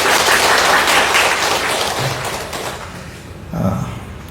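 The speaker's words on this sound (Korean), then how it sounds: "서로에게 한번 격려하는 의미로 박수 한번 칩시다" Church congregation clapping together in applause, a dense broadband patter that starts loud and gradually fades, ending with a brief low thump near the end.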